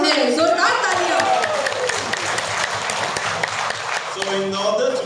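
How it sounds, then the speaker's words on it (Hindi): A seminar audience at a nutrition training session claps loudly, dense applause under and between a man's speech, fading slightly near the end as talking resumes. "जोरदार तालियां।"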